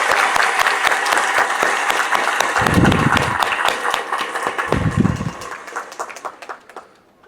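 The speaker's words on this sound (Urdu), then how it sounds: "ایک دفعہ اس ساری مینجمنٹ کے لیے اگر تالیاں بجائے پلیز" Parents in the audience clap for school management at an annual result ceremony at a school campus in Islamabad, a loud, dense round of applause with a few thumping bursts, tapering off at the end.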